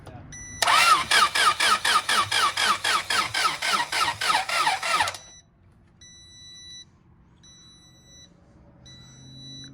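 An engine cranks over and over in a fast, even rhythm for about four and a half seconds without catching, then stops, leaving quiet background with faint tones.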